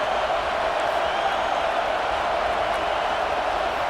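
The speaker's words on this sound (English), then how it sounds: "this big crowd doing everything possible to inspire this defense down here near the goal line" A big stadium crowd at a football game roars without a break near the goal line, a dense, loud, even wall of cheering and noise.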